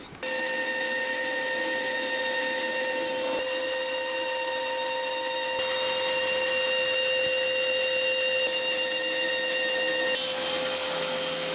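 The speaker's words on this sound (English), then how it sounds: "So I'll cut those out on the bandsaw." A bandsaw cuts out wooden filler pieces, its blade running with a steady, loud, high-pitched whine and hum for the whole stretch, the tone shifting slightly as the cut changes and near the end.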